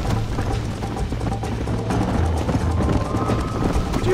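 A horse gallops in Red Dead Redemption, a steady rapid clip-clop of hooves over rough ground that runs the whole time, with faint wind noise around it.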